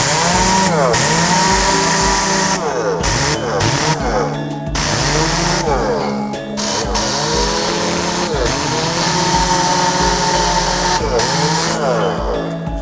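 A loud, budget Tornador air-blow cleaning gun roars continuously, its whining pitch rising and falling like a revving motorcycle, with abrupt bursts and cutoffs.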